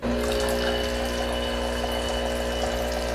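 A Breville Barista Pro espresso machine in hot water mode pumps water with a steady electric hum and a continuous rushing flow, close and loud without a break.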